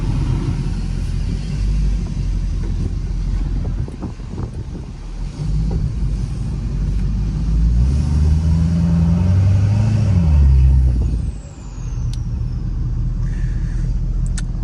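A Ford work truck drives along with a low engine rumble and heavy wind buffeting through open windows. It swells as it accelerates and eases off near the end, with no talking.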